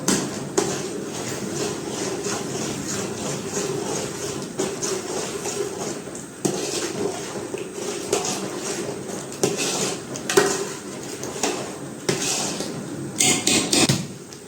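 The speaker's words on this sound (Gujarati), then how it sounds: "આ છે માંડવીના દાણાનો ભૂકો એ નાખી દઈશું મિક્સ કરશો" A utensil stirs and scrapes in a metal pot as peanut powder goes into a chickpea curry gravy, giving repeated clinks and rasping scrapes up close that grow busier and more clattery toward the end, with no voices.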